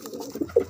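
A single pigeon on a farm of imported parwazi patti pigeons gives a brief, low, throaty coo close by.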